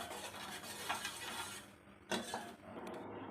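Sugar and ghee melt in a pan on a gas stove while a spoon stirs and scrapes, a quiet steady scraping with faint sizzling and occasional clinks against the metal.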